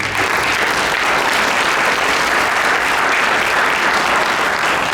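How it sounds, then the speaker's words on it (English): Full, even applause fills a Derby inauguration ceremony, a dense crowd clapping steadily at close range without a break. "So round of applause for all the fun."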